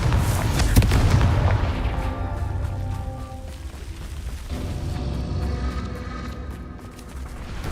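A Confringo fire spell in Hogwarts Legacy goes off with a deep, booming blast at the start, followed by rumbling debris and ringing game tones that fade over several seconds; loud and close, no talk.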